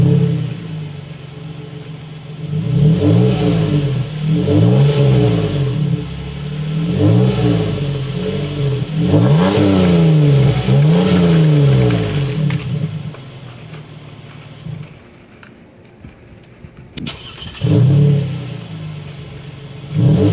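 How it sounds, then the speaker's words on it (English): A 2011 Toyota Sienna SE fitted with a G35 muffler starts and revs repeatedly, its engine note swelling and falling in a series of loud, close rises before settling toward idle and giving a final blip. "Hang on a second while I start it up."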